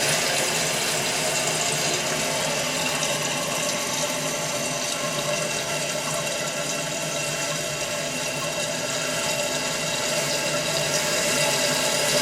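Water rushes steadily into a 1984 Kohler toilet tank after a rebuild, a constant close filling hiss and gurgle with no talking.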